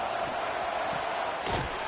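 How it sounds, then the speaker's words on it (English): Roaring crowd at a college football game between NC State and Duke: a steady, dense wall of distant cheering and yelling from the packed stadium, with a brief louder swell near the end. "The roar of the crowd trying to fuel this defense to keep them pinned in their own end."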